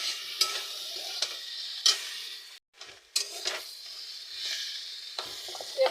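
Fried potatoes being stir-fried with masala in a pan for a Bengali aloo rui jhol, with a soft hiss and occasional sharp clinks and scrapes of the spatula against the pan, close, with a brief silent gap midway.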